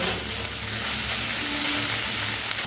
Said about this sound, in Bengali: এই পেঁয়াজের সঙ্গে একটু ভালো করে মিশিয়ে দিয়ে আদা রসুনের কাঁচা গন্ধটা যতক্ষণ না যাচ্ছে ততক্ষণ কিন্তু কষিয়ে নিতে হবে